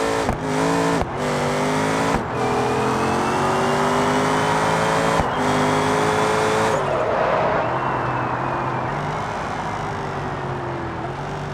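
A drag car launches at full throttle in BeamNG.drive. The engine roars loud and close and climbs steadily in pitch, broken by several quick gear shifts, then settles into a high, sustained drone.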